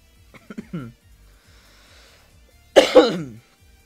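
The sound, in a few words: coughing into the microphone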